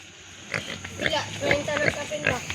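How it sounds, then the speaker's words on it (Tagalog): A pig wandering through muck, giving several short grunts and oinks close by, mixed in with someone talking over it. "Naglakaw-lakaw sa hugaw ang baboy guys."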